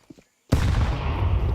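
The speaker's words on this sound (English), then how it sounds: "That's a very well-timed nade from magixx." A grenade blast from Counter-Strike during an ESL Pro League match: after a brief near-silent lead-in, a sudden loud explosion hits and rolls into sustained dense gunfire and rumble that fills the rest of the moment.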